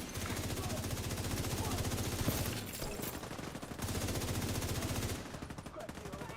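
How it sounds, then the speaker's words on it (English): Rapid automatic gunfire from a video game rattles in long continuous bursts, pausing briefly around the middle before resuming, loud and dense with sharp repeated shots. "Opening fire!"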